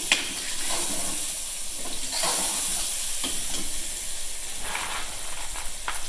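Spices and peas frying in a pot, a faint steady hiss and sizzle with a few soft stirring knocks, quiet and unbroken.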